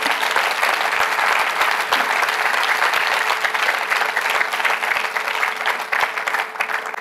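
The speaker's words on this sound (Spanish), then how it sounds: "Un aplauso al Señor." A church congregation applauds during a Spanish-language worship service, steady and loud clapping from many hands that fills the space continuously with no speech on top.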